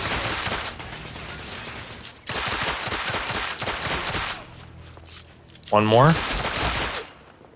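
Handgun shots in the shooter game The Order 1886, sharp repeated reports in bursts with short pauses between, close and loud, while someone speaks briefly.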